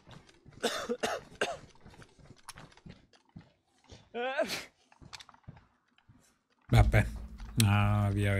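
In the video game DayZ, a sick character coughs in short bursts amid the clicks and taps of gameplay, while a person talks over much of it.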